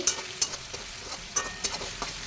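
Chopped ginger, tomato and green chili frying in oil in a kadai crackle and sizzle steadily, with sharp pops and spatters standing out close and alone.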